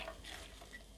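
Crushed dried chilli being stirred in a pan for an egg and pappadam thoran, giving a brief, faint sizzle with soft scraping.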